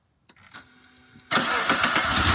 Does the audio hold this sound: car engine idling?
yes